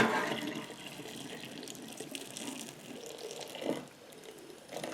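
Hot water pours out of a pot of freshly boiled eggs into a sink, a steady splashing, gurgling stream at moderate level that swells briefly near the end.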